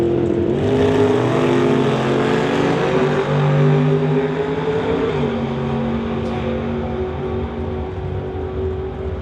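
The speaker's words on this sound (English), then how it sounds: "Mark's driving that 54 Studebaker." A 1954 Studebaker drag racing down the strip, its engine a loud, sustained roar climbing through the revs and then easing off as the car runs away, with no talk over it.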